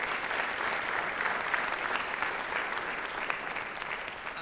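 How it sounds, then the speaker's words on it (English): A conference audience at a business summit claps, a dense, sustained round of applause that fills the room evenly for several seconds. "Round of applause, please."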